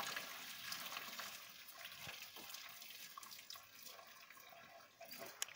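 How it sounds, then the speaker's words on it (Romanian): Water runs from a tap into a kitchen sink after pasta has boiled, a steady hissing splash at moderate level with no talk. "Acum eu voi da drumul un pic la apă jos, în ghiuvetă."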